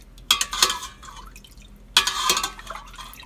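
Spoon gently moving up and down through milk in a pot, two bursts of wet swishing and light clinks with a quiet pause between, close and alone.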